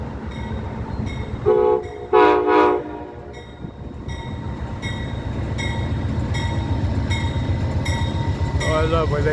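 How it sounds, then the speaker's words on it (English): An Amtrak Northeast Regional train, engine 127, arrives at Norfolk station and sounds its horn in a salute: two loud tonal blasts near the start, then steady rumbling of rolling railcars and a final brief horn note. "I love when they give you a horn salute coming in."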